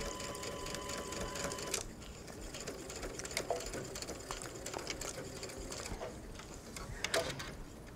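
A sewing machine stitches a bound buttonhole in a soft, continuous whir close by, with a few small clicks along the way.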